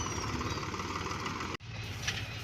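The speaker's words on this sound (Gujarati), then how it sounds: "ફાઇનલી ટ્રેક્ટર આવી ગયું છે ઠેસર" A tractor engine running at a low steady idle, a throbbing mechanical hum that briefly drops out for a moment before resuming, moderately close with no talking.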